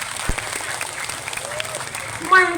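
A crowd at a local Indramayu regency gathering gives a round of applause on cue, steady moderate clapping filling the hall with a brief louder burst near the end.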